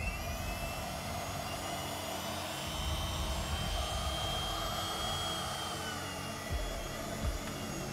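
An electric mixer runs on high speed mixing dulce de leche cheesecake batter, a steady loud whirring drone that holds throughout with only slight changes near the end.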